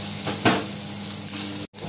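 Ginger and garlic frying in a mix of oil and butter, a steady bright sizzle with a brief louder crackle near the start and a sudden cutoff just before the end, alone with no talk.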